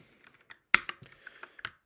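A short burst of computer keyboard typing, several crisp key clicks in an uneven rhythm, close and fairly quiet.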